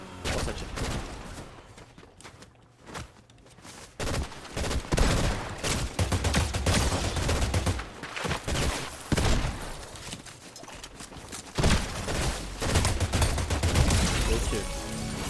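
Bursts of gunfire in the video game Fortnite, loud rapid shots and clattering that come in waves over a busy game soundscape, with a short quieter gap early on.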